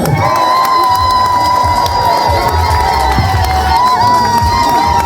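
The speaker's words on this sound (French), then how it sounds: "On applaudit très fort, mesdames, messieurs." Crowd at a 50th birthday party in Corbeil-Essonnes cheering loudly and whooping, children shouting among the roar, with music tones sustained underneath throughout.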